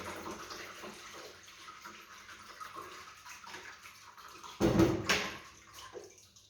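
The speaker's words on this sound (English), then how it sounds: "first you sieve it like this" Orange juice poured through a sieve, a soft trickling liquid stream that swells into a louder splashing pour near the end.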